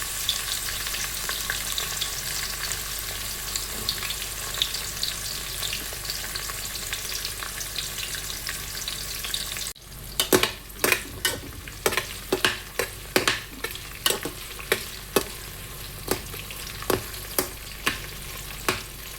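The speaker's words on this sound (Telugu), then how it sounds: "ఆయిల్ హీట్ ఎక్కింది. దీంట్లో మనం ఉల్లిపాయలు వేసుకోవాలి." Onions sizzle in hot oil in a home kitchen, a steady frying hiss that becomes livelier halfway through, joined by a regular series of sharp scraping clicks as a spoon stirs the pan.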